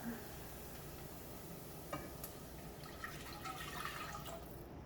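Water is poured into a pot of sweated-down vegetables for rice, giving a steady sizzle and bubbling hiss with a few splashes and drips, close and moderately quiet.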